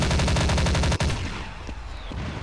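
Rapid automatic gunfire in the Cops N Robbers first-person shooter game, a loud fast rhythmic burst lasting about a second, then quieter scattered shots and game ambience.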